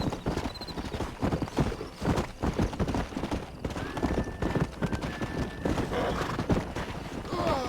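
Horses in Red Dead Redemption 2 gallop with steady, fast clip-clop hoofbeats throughout, and a neigh rises midway; voices are faintly present in the mix.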